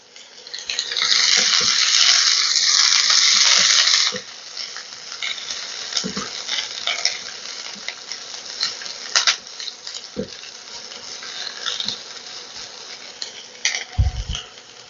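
Chopped onion and green chilli hit hot oil in a pan for a loud, bright sizzle over the first four seconds, then settle into a steady softer frying hiss with light stirring knocks and a few utensil clicks.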